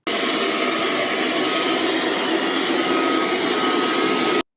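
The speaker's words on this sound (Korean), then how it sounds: "그리고 다음으로 터보 모드일 때 청소 소음입니다" A JONR robot vacuum cleaner in turbo mode gives a loud, steady, unbroken rushing whir of motor and airflow. It holds a constant level throughout, then cuts off abruptly at the end.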